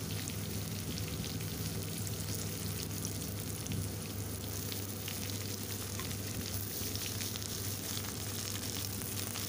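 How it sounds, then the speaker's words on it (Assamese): Banana stem fries in a pan with hot oil, giving a loud, continuous crackling sizzle that stays dense and even throughout, with no voices. "ভালদৰে লৰাই ৰঙচা হোৱালৈকে ভাজি ল'ম"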